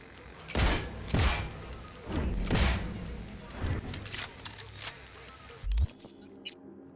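A Liberty power pistol fires in the Cyberpunk 2077 video game: about six loud, sharp shots spaced irregularly, each cracking out with a short decay over quieter background game sound.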